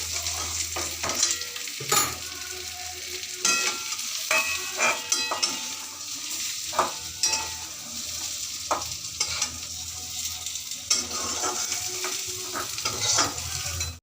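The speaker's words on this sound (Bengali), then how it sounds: "গাঁটি কচু ভেজে নিলাম, আলুটা আগেই আমি ভেজে রেখেছিলাম" Taro and potato pieces fry in a pan with constant sizzling, broken up by frequent scraping and stirring strokes and light knocks from the utensil against the pan. No voices.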